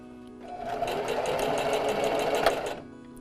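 A sewing machine stitches fabric for a homemade face mask, a fast steady rhythmic whir of needle strokes that starts abruptly, runs evenly for a couple of seconds, then stops.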